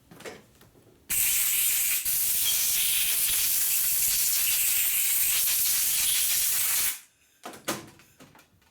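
Compressed air blasts solvent off a 1976 Harley-Davidson Shovelhead four-speed transmission part in a loud, close, continuous hiss lasting about six seconds, briefly interrupted once, followed by a few short puffs.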